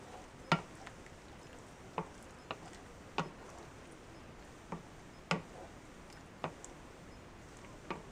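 A spoon stirs a buffalo chicken mixture in a pan, giving sharp, separate scrapes and taps at an irregular pace over a soft, steady sizzle.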